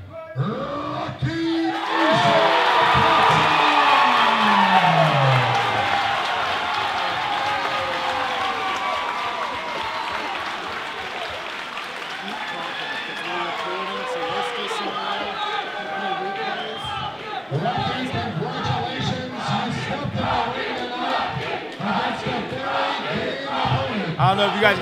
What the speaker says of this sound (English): Crowd going crazy for the Panamanian problem, Roque Zapata.